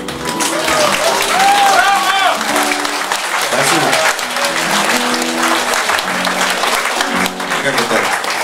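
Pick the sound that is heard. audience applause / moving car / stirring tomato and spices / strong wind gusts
audience applause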